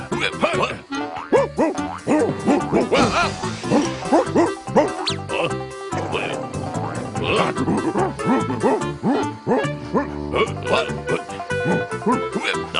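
Cartoon dogs bark and yip repeatedly in busy animated-show audio, loud and close, mixed with voices and music throughout.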